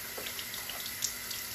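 A kitchen tap runs steadily into a measuring cup while water is portioned for cooking rice, a constant close hiss with light splashing and no talk.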